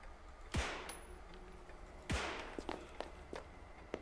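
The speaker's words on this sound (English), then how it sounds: "At least the gun sounds, you know, decent enough." Two loud gunshots from a handgun in the survival horror game Ebola 2, each a sharp crack with a ringing tail, about one and a half seconds apart, followed by a few softer clicks and thuds.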